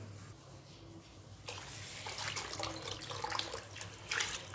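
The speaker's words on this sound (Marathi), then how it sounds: "हा जो तांदूळ आहे हा 3 पाण्यामध्ये स्वच्छ धुवून घ्यायचा आहे" Rice is rinsed in water, with running and splashing water starting abruptly partway through, then continuing as irregular sloshing, close and moderately loud, with no talking.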